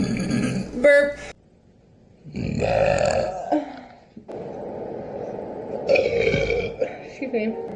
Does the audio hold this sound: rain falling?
no